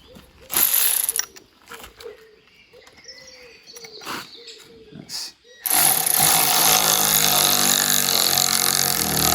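A ratchet clicks in short bursts while tightening coach bolts into the wooden frame of a swan house, separated by gaps, with birds calling nearby and a loud burst of broadband noise taking over near the end.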